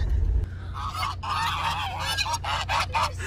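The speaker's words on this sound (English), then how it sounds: "But what's up with these geese?" Flock of geese honking near a pond in a small Humboldt lumber-mill town, a dense, continuous chorus of overlapping honks, fairly loud and close, with engine rumble at the start.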